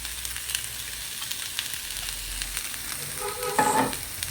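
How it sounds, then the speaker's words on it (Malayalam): Grated coconut fries in coconut oil in a pan, a steady close sizzle with a brief stirring scrape near the end, and no voices. "വെളിച്ചെണ്ണ ഒഴിച്ച് തേങ്ങ വറുക്കാൻ"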